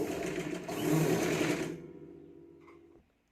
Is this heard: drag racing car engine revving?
no